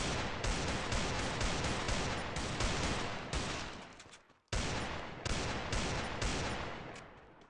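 Dense, sustained automatic gunfire from the video game Free Fire MAX, shooting at walls, rattles almost continuously, with a brief gap midway before the rapid shooting resumes, loud and close.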